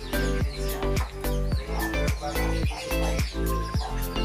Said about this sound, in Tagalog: Ito yung Indian ring, napakalaki.